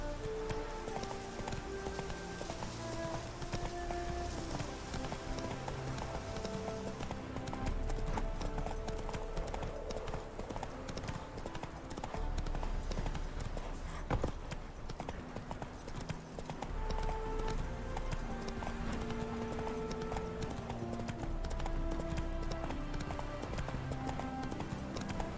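Roach, the horse in The Witcher 3 video game, gallops with steady rhythmic clip-clop hoofbeats throughout, mixed under a continuous layer of game music.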